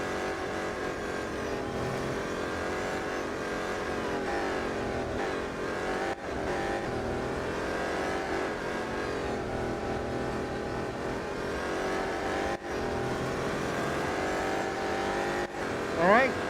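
BMW M Hybrid V8 race car engine in Real Racing 3, a steady sustained drone with shifting pitch running throughout, with someone talking over it.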